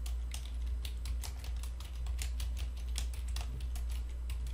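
Typing on a computer keyboard while entering data in accounting software, a quick run of close, crisp key clicks in an uneven rhythm over a low background hum.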